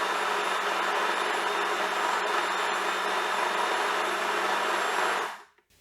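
A food processor whizzes an almond cake mixture with a loud, steady motor whine, then cuts off abruptly near the end.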